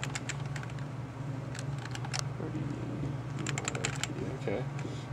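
Random keys tapped on a computer keyboard in quick irregular bursts of clicks, fairly quiet over a steady low electrical hum.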